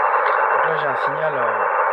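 Faint shortwave signal on an AOR LA380 receiver tuned in USB, a wavering tone buried in a steady wash of static across the whole short stretch.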